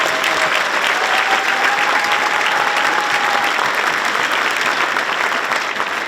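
Audience at a middle school band winter concert applauding steadily, a dense, even wash of clapping from a full room that holds at the same level throughout, without speech.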